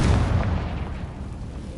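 A Confringo fire spell explodes in a game with a loud, deep boom that fades into a rumbling tail.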